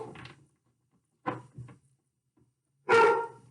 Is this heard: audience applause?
no